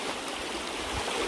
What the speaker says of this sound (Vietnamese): Đây, suối này các bạn ạ. Suối nước rất là sạch nhá.